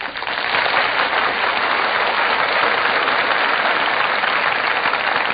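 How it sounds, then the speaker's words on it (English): A studio audience at a live radio broadcast bursts into tremendous applause as the cast enters the stage, a dense, steady roar of clapping that stays loud throughout with a muffled, band-limited broadcast quality. "The audience greets them with a tremendous burst of applause"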